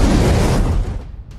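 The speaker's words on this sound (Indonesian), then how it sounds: "tiba-tiba mobil salah satu pengawal meledak." A car blows up on a bridge in a film action scene: one loud, roaring blast that fills the sound and then fades over about a second.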